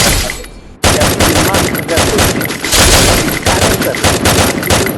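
Rapid bursts of gunfire ring out during a match of the video game Free Fire. The shots come loud and dense in continuous volleys, and excited voices shout over them.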